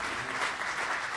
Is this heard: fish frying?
no